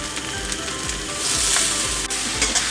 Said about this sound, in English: And now we add some green sprout.